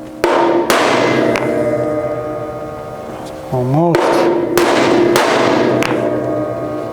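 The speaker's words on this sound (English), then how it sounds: "A little tap with the hammer." A hammer taps a part into place on a 1969 Ford Mustang being rebuilt from loose parts, giving about six sharp, close metallic knocks spread unevenly over a steady background hum, with one brief spoken word between them.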